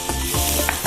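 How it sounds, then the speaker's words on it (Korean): Blanched pork belly and onion sizzling in oil as they are stirred in a pan for spicy pork and squid stir-fry, a close, steady frying hiss broken by a few scraping stirs. "어느 정도 양파랑 어우러지게 볶아주신 다음에"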